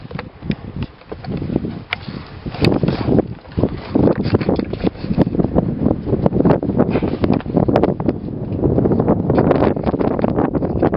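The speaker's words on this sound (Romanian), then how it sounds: "Vântuleț aici. De creastă." Gusty wind buffets the microphone on a mountain ridge in Valea Morarului, Bucegi, a loud continuous roar with surging rushes throughout, becoming steadier and stronger in the second half.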